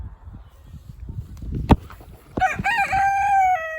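A rooster crows loudly and close by, a single drawn-out call rising after a sharp knock, with no talking.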